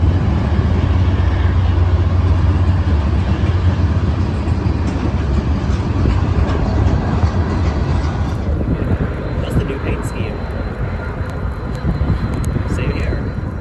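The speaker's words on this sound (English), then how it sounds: "A train of sulfuric acid heading north toward Idaho." A long northbound freight train hauling sulfuric acid tank cars rolls past on a rainy winter day in Weber Canyon, Utah, a loud continuous rumble and grinding roar that thins slightly toward the end.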